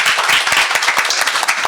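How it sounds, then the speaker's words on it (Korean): An audience at a panel discussion on autism education applauds the speakers, with dense, even clapping held at a steady level throughout. "큰 박수 부탁드립니다."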